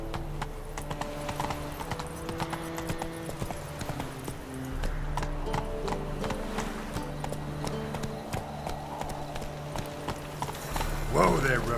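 Horse hooves clip-clop steadily in The Witcher 3 game over a continuous low background score, with a voice speaking to the horse and a brief whinny near the end.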